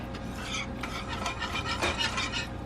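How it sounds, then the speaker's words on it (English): Whisk scraping steadily through ingredients in a bowl to form a paste, a continuous close rasping stir with clinks against the bowl and no talking. "I'm going to just try to whisk it"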